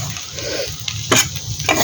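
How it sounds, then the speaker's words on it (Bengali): Flat beans fry in a pan with a steady close sizzle, broken by a few sharp scrapes and clinks of a utensil stirring against the metal. "এখন একটু শুকনো করে এটা ভেজে দিচ্ছি"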